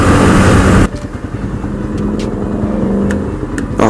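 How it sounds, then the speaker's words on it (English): A 250 motorcycle rides along a road, its engine droning loud and close with a pulsing rumble that drops back after a hard opening surge, then swells again at the end. "Back on the motorcycle. And we going, I don't know, we're just riding around"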